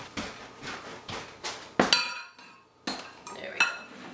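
Lobster claws are cracked over a bowl in a kitchen: a series of sharp hard cracks and clinks, several evenly spaced, then a louder snap followed by brief quiet and a few more knocks.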